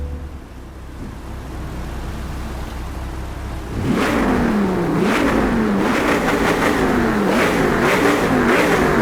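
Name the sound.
car engine revving in a video game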